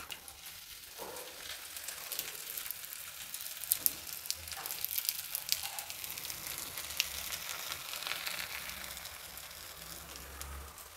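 Batter frying in a spoonful of oil on a hot tava over medium flame, a faint, steady hiss and crackle of sizzling that carries on throughout without talk.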